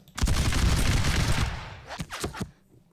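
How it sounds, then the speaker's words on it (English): Musket volley fire in a War of the Austrian Succession strategy game, a dense crackling burst rolling for over a second, followed by several sharper, separate shots trailing off. "Hear that? The sound of those guns firing."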